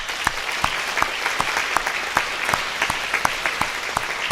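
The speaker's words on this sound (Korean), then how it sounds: "인사할 때 큰 박수 하겠습니다." A church congregation breaks into loud, sustained applause during a Korean Sunday worship service, with steady, dense clapping throughout that sounds close and fills the room.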